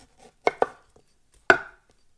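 Knife cutting the core from a pineapple on a board: three crisp, close chops, two in quick succession followed by a single firmer one after a short pause.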